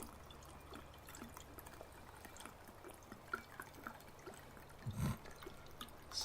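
Water pours and trickles in the Farming Simulator 22 video game. It is a faint, bubbling stream with small drips that swells briefly near the end. No one talks.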